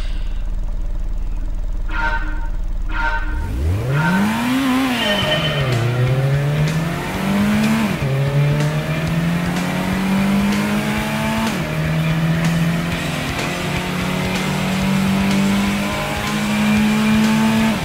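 A Nissan Silvia S14 in Gran Turismo fires up and revs hard, then accelerates through the gears with rising and falling engine whine, brief tire squeal and steady, close engine drone throughout.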